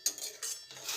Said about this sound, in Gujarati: હલાવી દઈશું